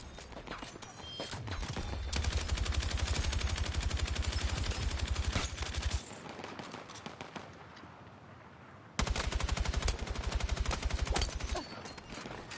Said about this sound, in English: They're shooting on me.